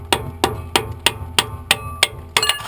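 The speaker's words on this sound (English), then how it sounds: "you can always use your hammer if you need to. Just lightly tap on it." A hammer lightly taps a metal brake part on an Isuzu Rodeo eight times in a steady rhythm, light ringing strikes close by, the last two coming slightly quicker.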